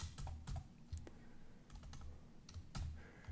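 Keyboard shortcuts are typed on a computer keyboard while working in the 10x code editor, with irregular clusters of crisp key clicks and thumps, close and distinct, over a faint steady background hum.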